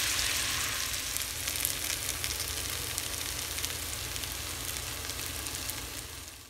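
Flour-coated chicken pieces sizzle steadily in a hot pan for a creamy chicken pot pie, a dense, continuous frying hiss with faint scraping as they are stirred, close and without speech.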